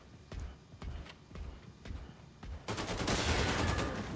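Gunfire in Wolfenstein II: The New Colossus, firing on a heavy enemy: a few sharp, separate shots in the first half, then a loud, dense sustained burst of automatic fire to the end.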